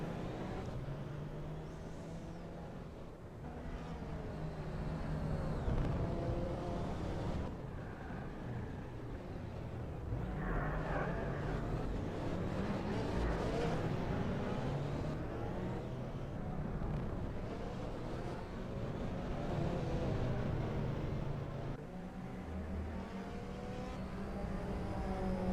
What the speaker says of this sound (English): Ah, you mean the default car in TORCS?